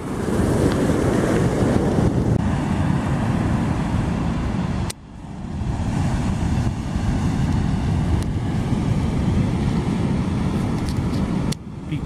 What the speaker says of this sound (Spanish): el mar recontra violento, la marea está subiendo mucho